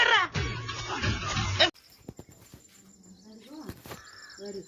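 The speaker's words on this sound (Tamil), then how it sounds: "ஸோ இப்படி மயில் போகிறத டெய்லியுமே நம்ம பார்க்கலாம்." A peacock gives a few loud, harsh, wailing calls outdoors after a noisy opening stretch, with a voice speaking around them.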